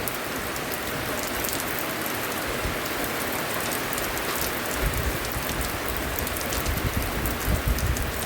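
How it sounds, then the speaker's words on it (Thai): Steady rain falls on a rural morning, a dense continuous hiss with heavier drumming on a surface in the second half, no voices. "ฝนตกเอ้ยมันสิไดยินบ่"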